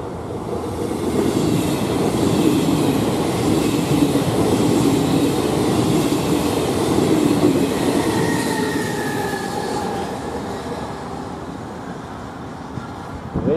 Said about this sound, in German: Regionalexpress von Verona nach Brenner.